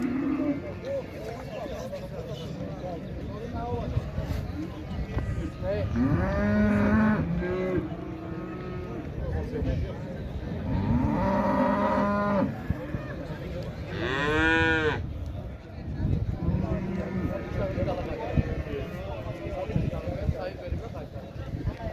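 Cattle moo again and again at the Xaçmaz livestock market, several loud, drawn-out calls from near and farther off over constant background chatter and bargaining voices.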